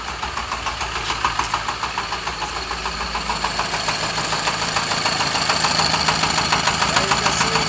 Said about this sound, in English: Now you can see my turbocharge spinning inside there.